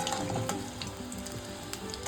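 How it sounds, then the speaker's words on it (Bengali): Potato cheese balls frying in hot oil, a close, dense bubbling sizzle with light stirring clicks and small pops, steady throughout and heard alone. "কি সুন্দর লাল লাল ভাজা হয়ে গেছে, এবার এগুলোকে তুলে নেব।"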